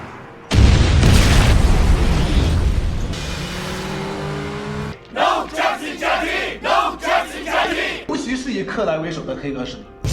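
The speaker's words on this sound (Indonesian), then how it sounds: "Bai An meledakkan bom yang ia pasang untuk menghabisi anak buah Long Tai." A bomb detonates in an action film, a sudden loud boom with heavy rumbling debris that slowly decays, followed by shouting voices and further bursts and clatter in a chaotic battle scene.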